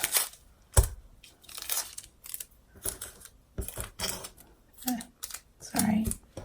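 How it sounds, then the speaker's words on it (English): Tape pulled off fabric by hand while making a top-zip bunny bag, giving a series of irregular crackling rips and short bursts, each a second or so apart, fairly close. "I'm gonna take all this tape off"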